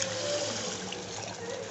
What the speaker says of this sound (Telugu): మసాలా అంతా కలుపుకున్న తర్వాత కొద్దిగా వాటర్ వేసుకుంటున్నా.